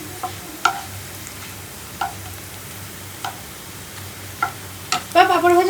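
Papad frying in hot oil in a home kitchen, heard as a soft crackle under sharp, evenly spaced clicks from a utensil, ending in a brief louder burst of sizzling.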